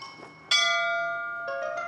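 Bright cartoon bell ringing, one clear struck tone after a faint tap that rings out and decays, then a second lighter strike near the end, heard alone.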